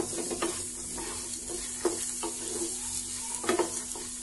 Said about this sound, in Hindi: इसे मैं आधा मिनट भून लूंगी। मुझे प्याज को सिर्फ नरम करना है।